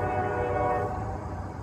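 A CSX switcher train at a crossing sounds its horn in a steady, sustained tonal blast over low rumbling rail noise, moderately loud and continuous throughout, with no speech.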